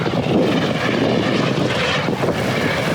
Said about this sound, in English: Look at that helicopter right there.